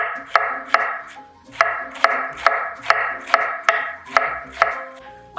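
Knife slicing a quartered head of cabbage crosswise on a cutting board: about ten crisp, evenly spaced chops with a steady rhythm, close and clear with no talking.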